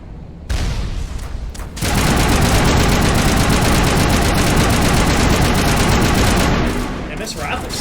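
Sustained rifle fire in Mass Effect: a few short shots, then a long, loud, continuous automatic stream that holds for several seconds before easing off, with light talk under the battle.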